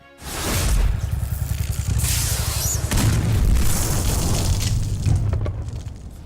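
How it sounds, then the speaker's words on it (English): A massive booming explosion in the video game Devil May Cry erupts and keeps roaring with crackling debris and rumble, loud and close, sustained for several seconds. "the hero nonchalantly walking away after a massive explosion"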